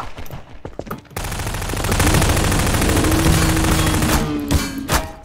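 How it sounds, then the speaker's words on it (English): Rapid automatic gunfire blasts continuously at a T. rex in a video game, a dense, loud burst sustained for several seconds after a short quieter opening with scattered sounds. "Stop shooting it!"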